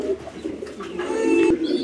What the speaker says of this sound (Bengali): আর এইটা হচ্ছে একটা হোমার কবুতর।